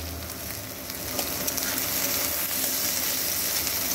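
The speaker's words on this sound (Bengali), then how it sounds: "একে একে রসুন আর কাঁচা লঙ্কাটাকেও এই পেঁয়াজ কুচিটার মধ্যেই দিয়ে দিচ্ছি। দিয়ে খুব ভালো করে একটু ভেজে নেব।" Garlic and green chillies frying with chopped onion in a pan, a soft, steady sizzle that swells slightly partway through, with faint stirring noises beneath it.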